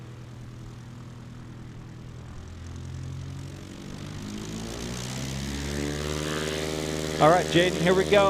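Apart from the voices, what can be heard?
STOL propeller airplane taking off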